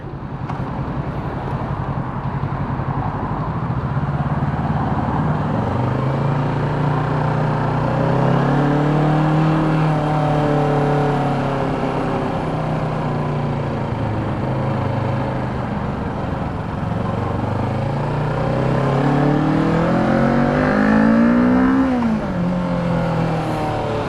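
A motorcycle engine revs repeatedly toward a redline around 13,200 rpm, pitch climbing high and dropping between pulls, loud and close, with a final sharp rise near the end.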